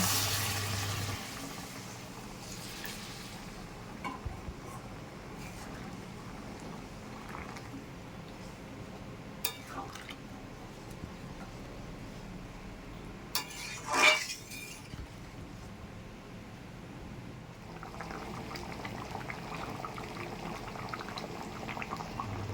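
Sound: hot water poured into a cooking pot

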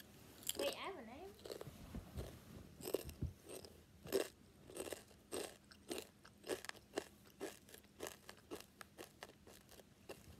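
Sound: crunching and chewing spicy chips

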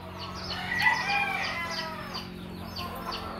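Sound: rooster crowing

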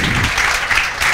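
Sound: applause in classroom

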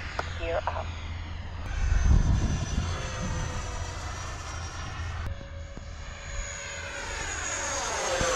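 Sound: Su-30 jet aircraft landing

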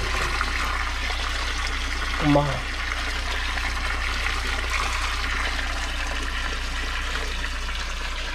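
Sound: flowing water of a stream

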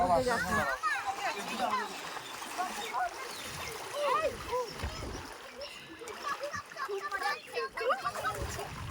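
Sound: water splashing as people take a dip in the Ganga

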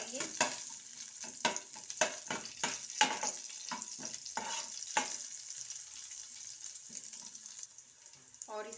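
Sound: stirring chopped green chili in frying pan

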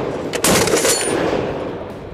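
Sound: Barrett .50 BMG rifle gunshot

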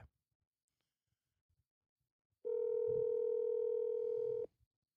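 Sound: telephone dial tone while placing a call

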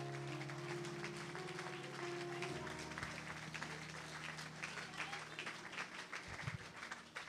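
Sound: congregation applauding and cheering Jesus Christ

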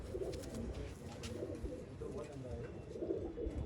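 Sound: pigeon cooing while being handled

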